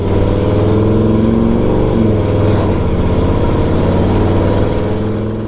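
A big-block Ford Lightning pickup with a new aftermarket exhaust drones loudly and steadily down the road, its deep engine note rising and shifting slightly as it pulls.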